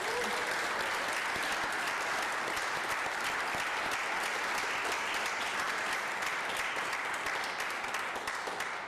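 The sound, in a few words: church audience applauding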